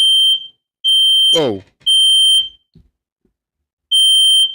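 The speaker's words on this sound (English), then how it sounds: "That is my fire alarm." A faulty home smoke/fire alarm gives loud, piercing, evenly spaced electronic beeps, close to the mic, with a short pause between them and a brief exclamation in the middle.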